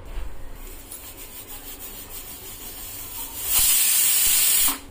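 Pressure cooker on a gas stove turned to full flame: a soft hiss builds, then a loud, sustained burst of escaping steam for over a second before cutting off abruptly.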